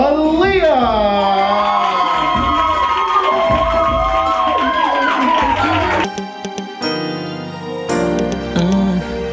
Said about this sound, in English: Y'all clap loud as you can for Aaliyah.